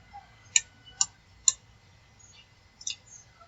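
Computer mouse clicking on an object while working in Adobe Animate: a few faint, sharp clicks spaced about half a second apart, then a quick double click, over a quiet background.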